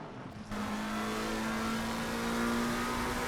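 Race car engines of an Aston Martin and a McLaren in a console endurance racing game at Suzuka, a loud sustained engine drone with a steady pitch that rises slightly, close and continuous, with no talking.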